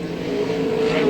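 A race car passes on a timed lap across the finish line, its engine a steady loud drone with a sustained pitch that holds and swells slightly toward the end, alone without voices.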